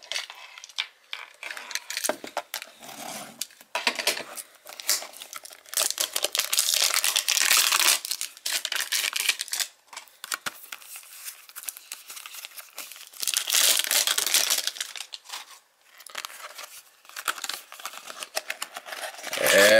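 Sealed hockey card packs from a Walmart Top Shelf mystery box being torn open, with wrapper crinkling and tearing in close, busy bursts and short pauses between them, and no talking.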